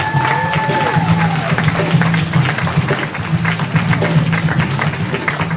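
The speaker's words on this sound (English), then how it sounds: "Big round of applause for Sean Kelly," A comedy club crowd applauds for a comedian, steady clapping with some cheering running throughout, while a voice talks over it through the house sound system.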